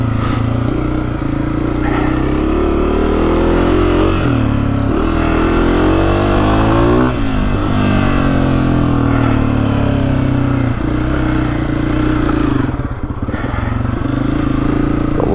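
A 2024 Honda CRF250F dirt bike ridden through hot desert, its single-cylinder engine droning loud and close throughout, rising and falling as the throttle opens and eases over bumps, with no one speaking.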